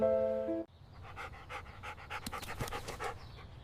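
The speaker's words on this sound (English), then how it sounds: "Poor little dog." A small dog pants rapidly and close by in a steady run of quick breaths, following a brief sustained tone at the start; no one speaks.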